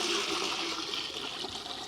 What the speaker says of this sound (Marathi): आता याच्यामध्ये आम्ही पाणी टाकून घेणार आहे पाणी ओतून घेऊ